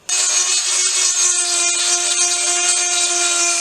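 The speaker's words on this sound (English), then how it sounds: "let's start with the Dremel now and get it a bit smoother." A Dremel rotary tool grinds a Kawasaki Z650/1170 motorcycle engine part smooth, a loud, steady high-pitched whine that starts abruptly and holds without a break, alone.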